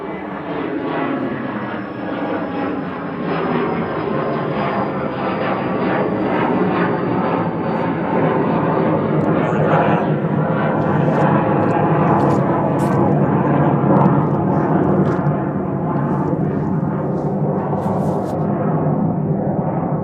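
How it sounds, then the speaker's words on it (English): A small Hawker Beechcraft plane at Manchester Airport gives a loud, sustained engine roar that swells steadily as it passes close by, with a descending whine near the start and no talk over it. "Makes a lot of noise for such a tiny little plane."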